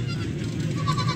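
A goat bleats at the Faisalabad goat market among Beetal goats, a short nasal call rising out of dense, constant crowd and market noise.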